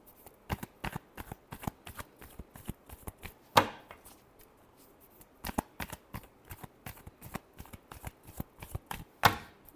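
Tarot cards shuffled by hand in a steady run of crisp riffling flicks, with a few sharper slaps where the deck is squared, close and alone with no talk.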